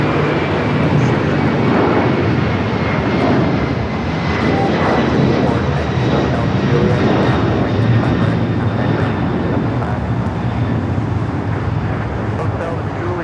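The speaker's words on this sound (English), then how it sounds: "767 to 300ER heading to Lima, Peru. Now taking off, 25 right." A Boeing 767-300ER takes off from runway 25 right at LAX, a broad, steady jet roar filling the whole stretch with a faint whine on top and a voice talking underneath.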